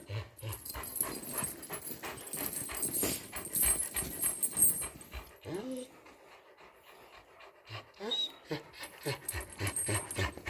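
Large Kangal dogs pant rapidly and heavily up close, with brief quieter pauses and a few soft whimpers.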